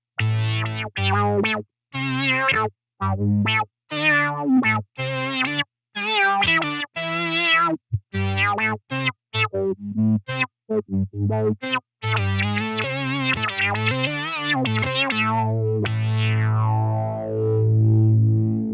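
A quick sequence of bright, synth-like plucked guitar notes through an Eventide H9 harmonizer, ending with longer sustained tones that ring out and fade.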